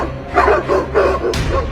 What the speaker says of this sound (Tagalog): tumahol lahat ng aso sa kalsada